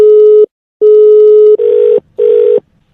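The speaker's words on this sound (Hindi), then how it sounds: "नंबर मिला रहा है भाई बार बार" A phone call is placed: two long tones, then two shorter, buzzier ringback tones, each separated by brief silence, loud and close, with no voices.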